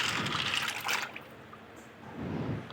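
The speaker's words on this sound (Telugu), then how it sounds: "తర్వాత ఇంకొకసారి ఇలా వాటర్ వేసుకొని" Water pours into a pot of washed pasta, a steady close splashing and filling that runs for about a second, thins out, then swells again toward the end, with no voices.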